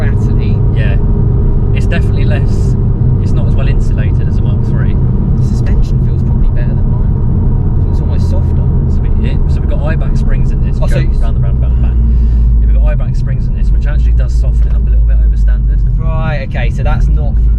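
Steady loud road rumble and wind noise inside a Ford Focus RS MK2 while driving, with faint rattles over the constant engine and tire drone, and people talking throughout.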